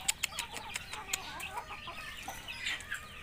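Village chickens (ayam kampung) in a backyard coop cluck in short, scattered bursts alongside faint bird calls, with no talking.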